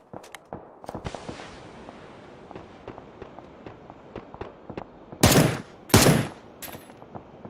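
Gunfire in the video game Occupy Mars: a scatter of sharp, light shots through the first seconds, then two loud, broad bursts close together near the end.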